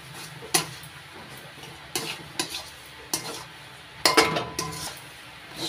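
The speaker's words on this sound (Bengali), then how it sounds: "পুরের সঙ্গে গরম মশলার গুঁড়ো ভালো করে মিশিয়ে নিচ্ছি।" Garam masala powder stirred into a potol (pointed gourd) stuffing for soya potol dorma in a pan, with a series of sharp spoon knocks against the pan over a faint sizzle, spaced roughly a second apart.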